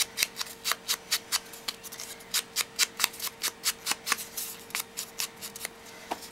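Scissors cut paper for a key chain craft project, making a steady rhythmic run of crisp snips, roughly three per second, close up with no talking.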